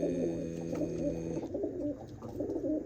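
Pigeons coo softly in a kept flock, a low, throaty rolling call that repeats steadily without voices nearby.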